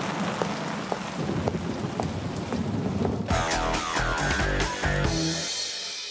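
Artificial rain from a fire truck hose, about 10,000 litres of water, pours steadily onto a road, a dense continuous hiss that swells into heavier, splashier, louder downpour partway through, with no talking.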